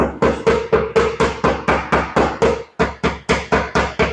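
A hammer taps repeatedly on the ridges around dents in a Lincoln MKX fender, with blocks of wood wedged behind the panel. About fifteen sharp, close metallic strikes land in a steady rhythm, one brief pause breaking the series.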